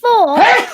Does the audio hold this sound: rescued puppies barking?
no